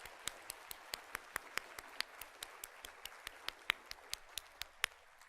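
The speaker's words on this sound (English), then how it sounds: "let's get one more round of applause for all of our closing speakers" A small audience at a statistics teaching conference claps for the closing speakers. The applause is sparse and fairly quiet, a few evenly spaced claps that sound like a handful of people in a large room.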